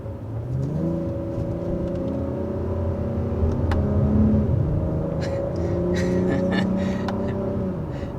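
A 2021 Acura TLX Type S engine runs under sustained load, a steady mid-loud whir that rises slightly in pitch, heard from inside with faint background clicks and no talk.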